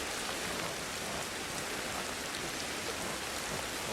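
Steady rain falls in Ancestors: The Humankind Odyssey, an even, dense hiss of drops on surfaces throughout, moderately loud with no voices.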